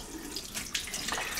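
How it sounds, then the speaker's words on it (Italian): Water splashing from cupped hands while wetting the face over a sink, a steady close wash of running, sloshing water with a couple of brighter splashes. "Allora, mi bagno il viso."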